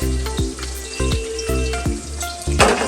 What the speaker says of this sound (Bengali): এবার আমি মাছগুলো উল্টে দিচ্ছি। আর কাতলা মাছ খুব একটা ভাজার প্রয়োজন হয় না, অল্প ভেজে নিলেই হয়।